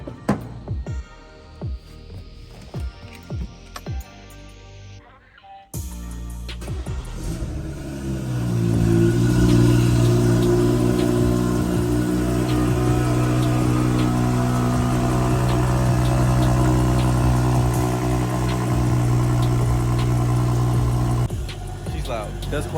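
A BMW with an aftermarket downpipe cranks and fires, with a brief flare of revs before settling into a loud, steady, rumbling idle, heard close up after a few short bursts of talk.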